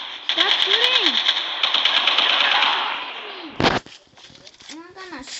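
Rapid bursts of automatic gunfire in a Call of Duty video game, with a loud sharp blast near the middle, heard under excited talking from players.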